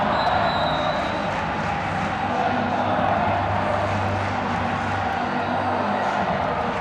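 Arena crowd at a 2016 OVC Tournament Championship volleyball match between Murray State and SIUE, a steady roar of cheering and noise filling the space, with a commentator's voice faintly mixed in.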